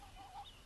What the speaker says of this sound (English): These are my hens.